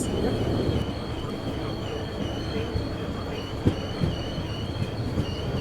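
Sabari Express passenger train at a station on the Trivandrum Central to Secunderabad route, a steady close rumble with a faint whistle-like tone and a few clanks, no talk.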